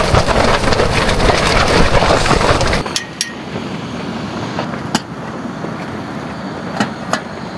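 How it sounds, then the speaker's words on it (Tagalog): Heavy rain on an island coast during a storm, a dense roaring downpour that suddenly drops to a softer steady patter, with scattered sharp drips and taps afterward. "grabe, lakas ng ulan"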